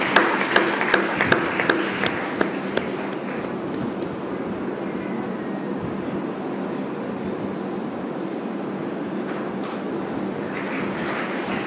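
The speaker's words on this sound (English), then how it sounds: "Guys, they deserve a good round of applause." Audience at a school launch event clapping, a dense steady wash of applause running throughout, with a few sharper isolated claps standing out near the start.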